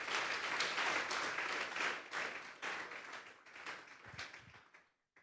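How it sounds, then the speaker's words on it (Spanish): Congregation at a Sunday afternoon church service giving a loud, sustained round of applause that gradually thins out and dies away to near silence after about five seconds. "Denle un fuerte aplauso pues al Señor esta tarde."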